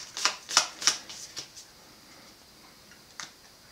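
A Pokémon Sun and Moon trading card pack being opened and its cards handled, giving a few crisp, close snaps and flicks in quick succession before thinning to faint rustles and one last tap, with no voices.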